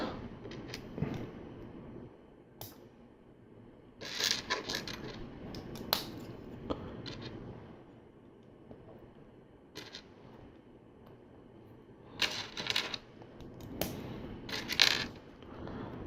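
Small LEGO tiles and studs click and rattle as they are handled and pressed into place, with sparse sharp plastic ticks and short bursts of rummaging separated by quiet gaps, close up.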